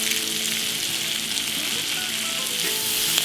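Vegetables and fresh garlic fry in a cast iron skillet, a loud, continuous close sizzle and crackle with faint stirring, and no voices over it.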